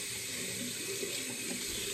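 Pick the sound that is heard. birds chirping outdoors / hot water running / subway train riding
hot water running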